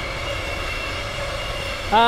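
A train passes nearby as a steady rumbling roar with faint tonal whine, and a voice starts talking right at the end.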